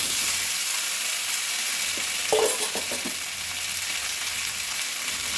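Tomatoes dry-frying in a kadai with no oil give a steady, close broadband sizzle and hiss, with a brief clatter of stirring partway through.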